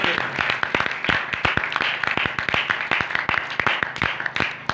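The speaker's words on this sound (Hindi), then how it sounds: "आप एक बार अपने लिए जोरदार तालियां बजा दें।" Audience at a Christian gathering clapping, heard as sharp individual claps in an uneven rhythm from a modest crowd, fairly close and steady for several seconds.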